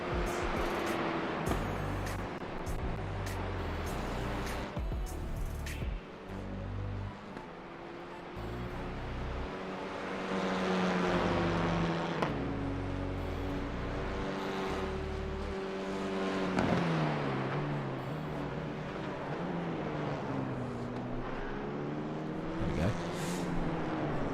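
Clio Cup race car engines roar continuously in a sim racing game at Knockhill, revving up and down through gear changes with several cars droning together at steady volume.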